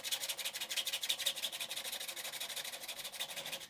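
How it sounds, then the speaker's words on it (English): Rapid back-and-forth scratching of 80 grit emery cloth sandpaper on a 3D printed PETG part, a steady rhythmic rasp of short strokes, close and fairly quiet with no talk. "So this is 80 grit sandpaper, emery cloth. I'm going to start by just going against the grains."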